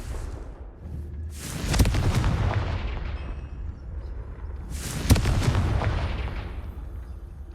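Two heavy Confringo explosive-spell blasts from the Hogwarts Legacy video game, each a loud booming burst that rumbles away over a couple of seconds, a few seconds apart.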